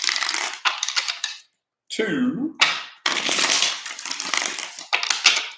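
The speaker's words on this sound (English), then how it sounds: "Let's get 3 shuffles here." Tarot cards being shuffled by hand in a few bursts of riffling and slapping, with short gaps between shuffles and a voice counting along between them.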